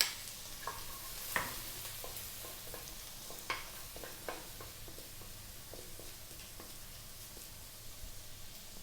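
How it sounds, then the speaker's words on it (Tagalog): Garlic sizzles in hot cooking oil in a pan, a soft continuous frying hiss broken by scattered sharp stirring clicks and scrapes, fairly quiet and with no voice over it. "Magigisa na po tayo."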